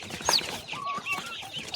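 Backyard hens give a few short, soft clucks and a brief higher squawk, fairly close and otherwise quiet.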